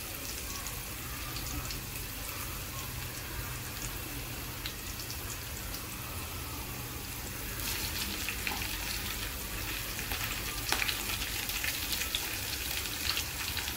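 Green chillies frying in oil for fenugreek leaf bhaji, a soft continuous sizzle and crackle at moderate distance that grows a little busier in the second half, with no speech.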